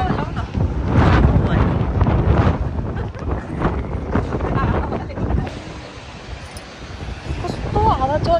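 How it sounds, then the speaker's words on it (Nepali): Strong outdoor wind buffets the microphone with loud, steady rumbling gusts during a family Dashain tika gathering, while several people talk over it throughout. "कस्तो हावा चलेको"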